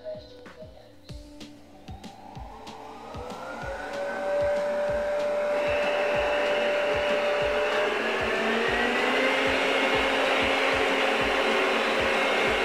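A cordless stick vacuum cleaner starts up about 1.5 m away, its motor whining upward over a few seconds into a loud, steady roar that holds to the end.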